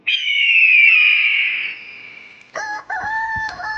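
A rooster crows loudly and close by, one long sustained call that fades, followed by shorter clucking notes.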